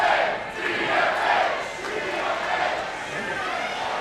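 A wrestling crowd at a Fatal Four-Way event in Vancouver roars and cheers steadily, a dense, loud wall of voices that swells and dips without pause for several seconds.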